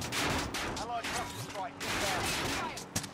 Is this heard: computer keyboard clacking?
no